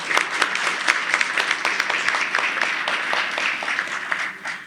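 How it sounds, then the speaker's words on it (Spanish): An audience at a ceremony marking the 150th anniversary of Francisco I. Madero's birth in Mexico City applauds steadily, a dense wash of clapping with a few sharper individual claps standing out, moderately distant and sustained throughout. "la licenciada María del Carmen Lau Valderas, para la que pido un aplauso."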